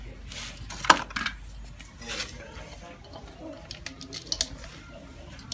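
Fish tossed with fish sauce in a dish: light clinks of utensils against a plate, a few sharp taps and scrapes, quiet with soft background chatter.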